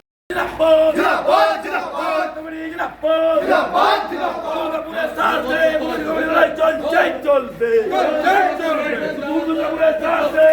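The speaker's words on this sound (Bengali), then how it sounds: "ধৃতদের আদালতে নিয়ে যাওয়ার সময় তারা স্লোগান শুরু করেন" Arrested land-protection committee members, including its president, chant slogans in unison outside a Durgapur court as police and combat forces stand by; loud, continuous crowd voices with rhythmic rising shouts throughout.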